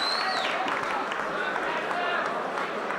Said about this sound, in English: How about a round of applause for Fast Eddie Richardson?